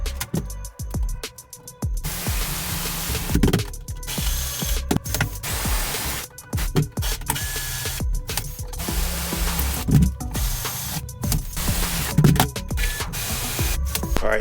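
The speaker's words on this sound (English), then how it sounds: "I'm going to drop 4 rivets in, countersunk rivets on this side just to hold this in place" Countersunk rivets being driven to fasten a bench riser onto a boat casting deck, giving a run of sharp mechanical clicks and snaps over a steady, busy workshop background.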